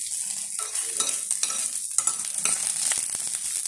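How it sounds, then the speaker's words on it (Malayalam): Onions sauté in a pan with a bright, close sizzle while a spoon stirs them in repeated scraping strokes. There are no voices. "ഉള്ളി ഒന്നുകൂടെ ഒന്ന് വഴറ്റി"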